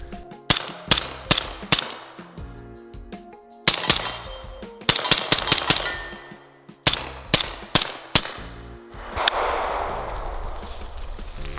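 Suppressed rifle firing subsonic rounds: bursts of muffled, clanking reports in quick clusters with metallic action noise, followed by a sustained rushing noise near the end.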